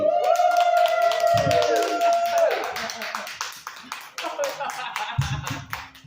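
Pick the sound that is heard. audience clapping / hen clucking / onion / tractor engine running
audience clapping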